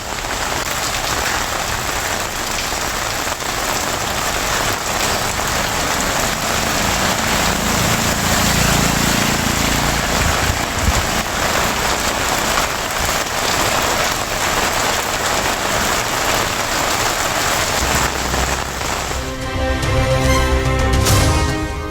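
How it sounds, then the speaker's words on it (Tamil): Steady rain pours down across a district around Chennai, a dense continuous hiss of drops on surfaces holding for about twenty seconds, with a brief low rumble near the end and no voices. "சென்னை, காஞ்சிபுரம், திருவள்ளூர், கள்ளக்குறிச்சி மாவட்டங்களில் பரவலாக மழை."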